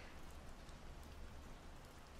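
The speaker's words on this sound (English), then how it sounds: "I love the rain." Rain falls steadily outside a log cabin, a dense, even patter of drops on surfaces that carries on without a break, soft and continuous with no voices.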